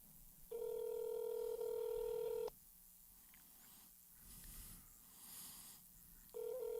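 Telephone tones sound during a phone line test: a loud, steady tone holds for about two seconds, then quieter line noise follows, and the tone returns at the end.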